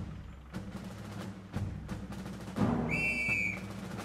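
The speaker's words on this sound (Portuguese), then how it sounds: "O apito!" A sharp, high whistle blast sounds about three seconds in from the video game Valiant Hearts: The Great War, held briefly over a low rumbling battlefield bed with intermittent thuds.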